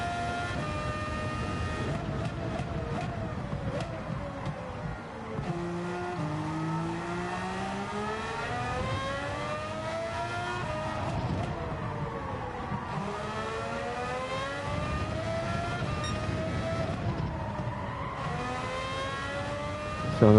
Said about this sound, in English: 25 laps of V12 noises.